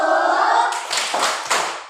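Group of children clapping the 'tepuk wow' rhythm game in a classroom, a voice chanting at the start, then three clear separated clap bursts in a steady beat, moderately loud and close.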